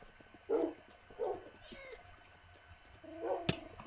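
A cat in the game Minecraft meows three times, with short and fairly clear calls spaced a second or more apart against a quiet background.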